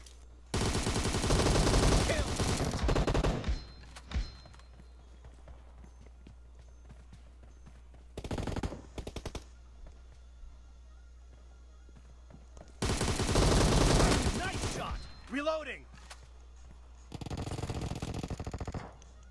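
Video game gunfire in several rapid bursts, loud volleys of automatic shots separated by quiet gaps, with brief sounds between them.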